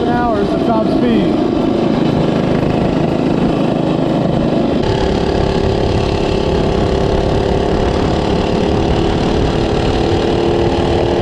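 A cheap mini bike's small engine is held at top speed with a loud continuous buzzing drone, close up, while wind noise rushes over it.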